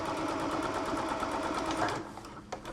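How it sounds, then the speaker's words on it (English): A sewing machine stitches the folded edge of a cloth face mask in a steady, fast, continuous run that slows and falters near the end, close and alone without talk. "You're gonna sew that folded part to the back"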